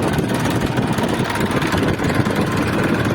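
A New Holland 3230 tractor engine idles close by with a loud, steady low diesel rumble and rattling vibration, running continuously without changes in speed and with no talking.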